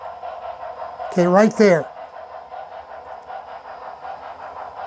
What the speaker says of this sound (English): This locomotive is making it up the hill without any trouble